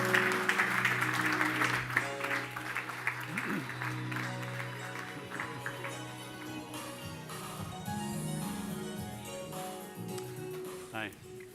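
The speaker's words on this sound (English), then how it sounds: "big applause, please, for Bill Britten." A seated audience at a public speaking masterclass applauds a former BBC movie director as he is introduced, with sustained clapping mixed with music and some voices, fading over about ten seconds.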